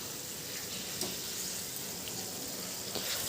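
Eggplant and fenugreek curry being stirred in a pan, giving a steady low sizzle with faint scraping and soft clinks from the spoon, close and continuous with no talking.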